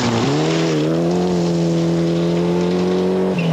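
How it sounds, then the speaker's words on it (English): A rally car in the 2003 New Zealand Rally Championship at Rally Hawke's Bay is pushed hard through a tight section. The engine drones loud and close with a steady high-revving pitch, briefly dipping at a gear change near the start and again near the end. "Check out how hard he's driving through this tight section"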